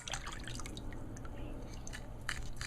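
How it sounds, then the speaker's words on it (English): Thick fish skin being scraped and washed for a curry: close, wet squishing scrapes and drips in quick irregular bursts over a low steady hum. "I always scrape the skin, take out any slime or whatever is on you know, the fish."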